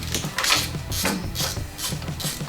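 A ratchet tightening a bolt on an El Camino's suspension clicks in quick, rhythmic bursts close by, five or six strokes back and forth, with no talking.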